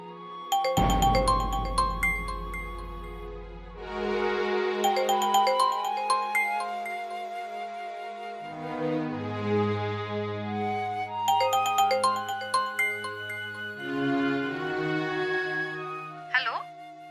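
A phone rings with a looping, chiming electronic melody in repeated bursts, fairly clear and close, as voices talk intermittently in the room.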